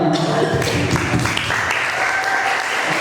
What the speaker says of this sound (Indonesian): Boleh berikan tepuk tangan untuk Kang Rijal